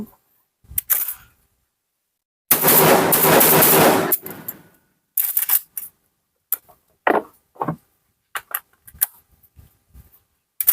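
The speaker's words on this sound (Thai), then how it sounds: "ยิงปืนถวายกบหลวงชุมพรเขตอุดมศักดิ์นะครั บ 199 นัดประจำปี 2567 นะครับเริ่มยิงครับผม" A Saiga shotgun fires repeatedly during a ceremonial 199-round shoot: a loud rapid burst lasting over a second, then scattered sharp shots and mechanical clicks separated by silence.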